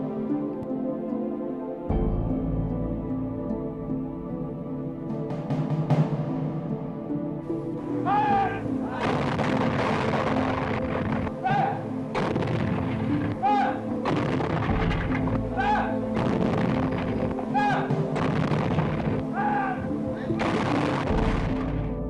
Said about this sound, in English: only 92 anti-aircraft guns defended the capital